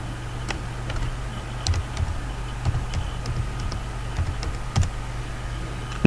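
Soft keystrokes tapping on a computer keyboard while an email address is entered, faint irregular clicks over a steady low hum, no talking.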